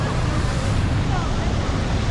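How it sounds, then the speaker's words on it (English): Waterfall in front of Pavilion Mall in Bukit Bintang, Kuala Lumpur: a steady, close rushing wash of falling water that fills the whole moment without pause. "this is the waterfall."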